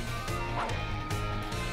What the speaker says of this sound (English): Little puppy dog tail wag.